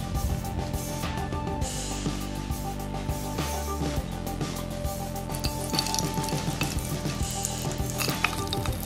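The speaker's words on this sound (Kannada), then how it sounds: "ಸಾಂಬಾರಿಗೆ ಸ್ವಲ್ಪ ಎಣ್ಣೆ ಹಾಕ್ಕೊಂಡು ಒಗ್ಗರಣೆ ಹಾಕೊಳ್ಳೋದು" Mustard seeds and cumin crackling and sizzling in hot oil as tempering for sambar, a busy continuous fry with clinks and scrapes of a pan nearby, over a low steady hum.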